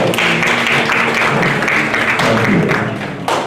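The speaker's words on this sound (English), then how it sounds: "Let's welcome with a round of applause." An audience at a regional FAO–CSIR workshop gives a round of applause to welcome a presenter, loud dense clapping up close that holds steady for a few seconds before starting to fade.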